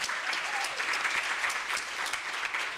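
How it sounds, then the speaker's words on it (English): An audience at a research and innovation week grand opening claps steadily, a dense even patter of many hands at moderate distance with no talk over it. "I think she needs a round of applause."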